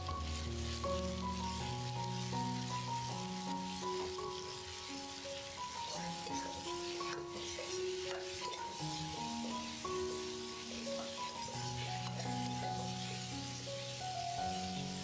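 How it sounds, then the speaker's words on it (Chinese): Dried tofu pan-frying with shrimp and chives for a stir-fry, giving a steady, continuous sizzle that runs the whole time beneath prominent background music. "稍微这样摊开来煎一下， 让它更香。"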